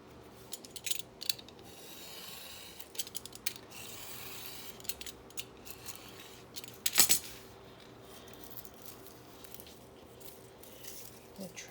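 Scissors trim pages while an Animalia journal is put together, giving faint, scattered snips and clicks over a quiet room, with one sharper cut standing out midway.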